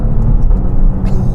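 Low, steady rumble of the twin-turbo Ferrari-built engine in a 2021 Maserati Levante S SUV, heard as a continuous throaty drone up close with no talking.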